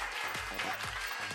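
Brief burst of audience applause at a game show, fairly faint clapping heard alone over a short stretch.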